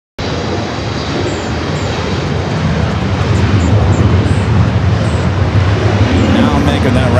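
Airliner taxiing at LAX, a loud steady broadband engine roar that holds constant and builds slightly, close by and continuous.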